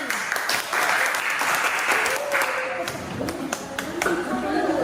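A school class applauds after a group presentation, a dense, close burst of clapping with chatter and voices running underneath.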